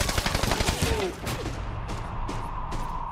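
Dense bursts of automatic gunfire in the Medal of Honor Warfighter multiplayer shooter, loud and rapid for about a second, then easing into scattered, quieter distant shots over a steady background hum.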